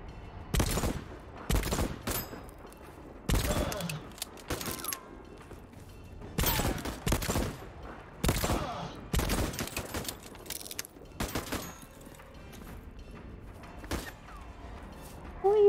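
Gunfire in the video game Voidtrain: repeated loud bursts of shots in irregular clusters across the whole stretch, with short gaps of mechanical clatter and faint background noise between volleys.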